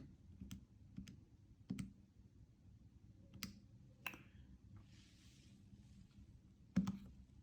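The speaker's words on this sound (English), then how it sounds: "if you've got one of these fancy calculators, you can just type it in" Buttons on a scientific calculator are pressed one at a time, giving about eight faint, sharp plastic clicks spaced irregularly across a quiet room with no speech.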